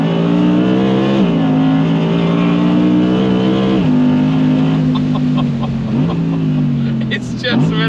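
Audi R8 RWD Performance on Michelin Pilot Sport 4S tyres accelerates hard on a closed private road, its engine roaring loudly and climbing in pitch with quick dips at each gear change, heard from inside the car.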